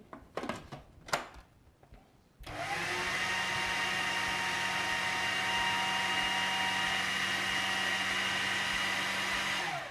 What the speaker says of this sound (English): we're just going to give that a quick mix just to get started